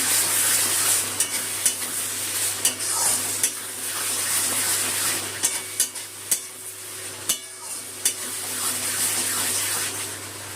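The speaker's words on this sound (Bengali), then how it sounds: "মশলাটা খুব ভালো করে কষিয়ে নেব" Spice masala paste stir-fried in a pan for katla kalia fish curry: a continuous sizzle broken by repeated sharp scrapes and taps of the spatula, close up.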